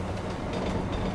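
Subway train in the Deus Ex Mankind Divided video game, a constant loud rumble with rattling wheel clatter that rolls on steadily throughout.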